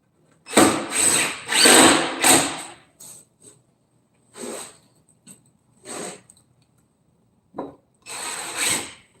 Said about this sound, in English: we'll go ahead and screw that on and tighten it up